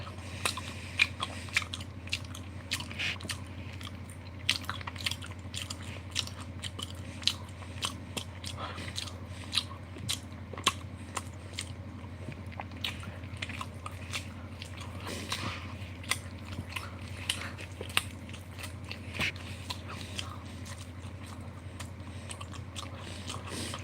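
Close, continuous wet chewing and crunching of raw Aldi beef mince, with irregular biting and squishing clicks throughout over a low steady background hum, no talking.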